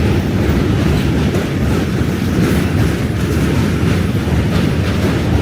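A subway train rumbles steadily and loudly across the Manhattan Bridge in New York City, a dense rolling roar with rail clatter, heard up close from onboard with no voices.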